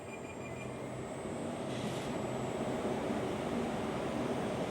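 Wheel spinning at 800 RPM on a wheel repair stand with no spindle brake, a steady broadband whooshing rush holding evenly throughout at moderate loudness, with a faint high whine above it.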